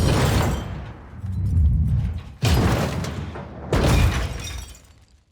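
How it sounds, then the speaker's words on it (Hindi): A Porsche crashes into a motorcycle, a loud impact with shattering glass and crunching debris, followed by two more sharp smashing bursts, all close and without talk. "उसको पता चलता है कि पोर्शे का क्रैश हो गया है अनीश की बाइक के साथ"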